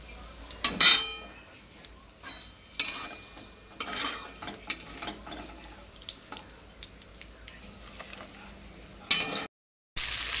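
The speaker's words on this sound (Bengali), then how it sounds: "এই মাছগুলো ভাজা হয়ে গেছে, ফাটছে প্রচুর" Small mourola fish frying in a pan, with bursts of crackling and spitting oil, mixed with utensils clinking and stirring against the pan nearby.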